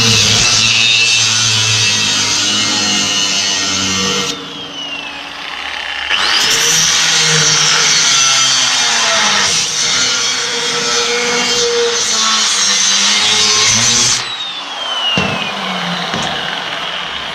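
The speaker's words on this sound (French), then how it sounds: "on va couper un bout ici de 6 par 4, c'est de la tôle qui est bien épaisse" A power tool cuts through a small piece of thick sheet steel, about 2 mm, during a repair to a stand. It gives a loud, close, high grinding whine in long stretches, broken by short pauses as the tool slows and restarts.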